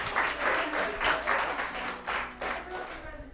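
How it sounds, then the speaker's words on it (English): Audience clapping at a birthday shout-out during a business networking gathering, a moderate, uneven patter of many hands with rhythmic swells, voices talking faintly underneath. "I want everybody to give a big clap"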